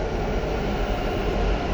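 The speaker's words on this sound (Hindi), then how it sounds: "ज़रा ट्रेन की आवाज़ है" Steady, loud rumble of a nearby train passing, broad low-frequency roar and rattle holding constant throughout with no talk over it.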